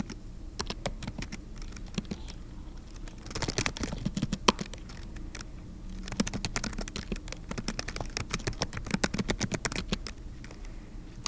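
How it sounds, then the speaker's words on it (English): Rapid computer keyboard typing, a steady stream of close, crisp clicks with brief pauses and bursts of faster keystrokes. "Sorry for the clicking noise throughout."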